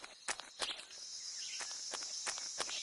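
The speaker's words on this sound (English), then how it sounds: "I hear footsteps." Footsteps in the video game Metal Gear Solid 3 come as a series of soft irregular steps over a steady high insect-like hum.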